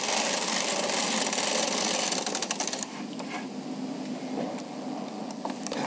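A Bond Classic knitting machine knits a row: a loud, fast mechanical clatter and rattle from the carriage moving across the needles, then a slightly quieter stretch with scattered clicks.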